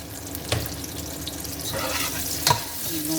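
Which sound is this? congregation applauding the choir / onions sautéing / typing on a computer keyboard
onions sautéing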